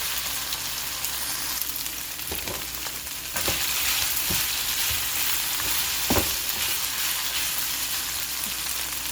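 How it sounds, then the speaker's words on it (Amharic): Onions and chicken tibs frying together in a pan give a loud, continuous close sizzle, broken by occasional knocks and scrapes of stirring. "ምንም ሽንኩርቱን ከዚህ ጋር አብሬ ጠበስ አድርገዋለሁ።"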